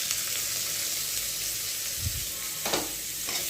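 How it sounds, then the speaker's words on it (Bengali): Chopped onion hits lightly fried garlic in a hot pan for chicken momo, giving a loud, continuous close sizzle with brief bursts of stirring and scraping. "রসুনটা হালকা করে ভাজা হয়ে গেছে, এবার 1 চামচের মতন পেঁয়াজ কুচি দিয়ে দেবো।"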